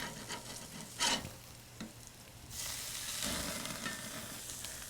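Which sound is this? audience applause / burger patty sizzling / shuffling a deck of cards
burger patty sizzling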